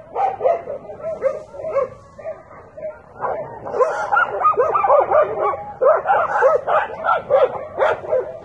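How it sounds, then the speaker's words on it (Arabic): Several dogs bark, yelp and whimper in a continuous, loud and close commotion, with excited voices shouting over them throughout. "عندك الكلاب، عندك الكلاب، عندك الكلاب، ما تضربش"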